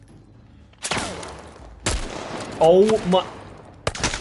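Several loud gunshot bursts ring out in The Last Of Us Part 1, a sharp blast near one second, another near two, and a final crack near the end, with an exclamation heard between them.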